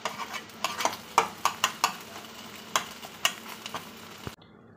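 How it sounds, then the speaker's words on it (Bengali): An egg frying in a pan, with a series of light scraping and tapping strokes from stirring over a soft, low sizzle, fairly quiet and close, then ending abruptly. "ডিমটা ভালো করে ভাজা হয়ে গেছে, খুব লাল করে ভাজিনি।"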